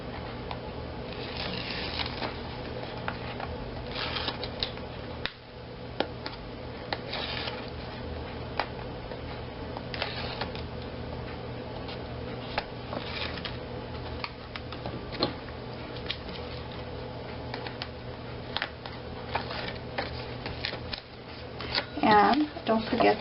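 Tape backing is peeled off scrapbook mini album pages, heard as light crinkly paper rustles and small ticking peels. Someone talks over them throughout.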